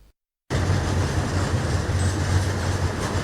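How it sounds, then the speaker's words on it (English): Train rolling into a fuel depot in Blantyre, Malawi, a steady close rumble of wheels and wagons that starts abruptly after a brief silence and continues evenly. "A train arriving at Matindi Nokma Depot in Blantyre."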